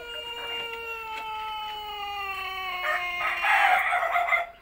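A Pelung rooster gives one long, drawn-out crow, a clear tonal call held for several seconds that swells louder near the end before cutting off, close by with no talk.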